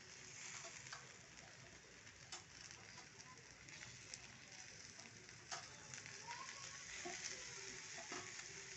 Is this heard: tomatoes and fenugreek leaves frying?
yes